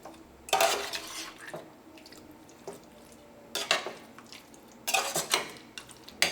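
Chicken korma being mixed with garam masala in a pan: bursts of metal spoon scraping and clinking against the pot, wet stirring in between, close and moderately loud, with no talking.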